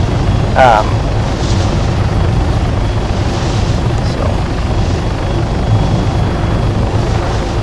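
Transport helicopter in the Arma 3 video game flying and slowing down, a steady, loud rotor and engine drone that fills the whole stretch without letup.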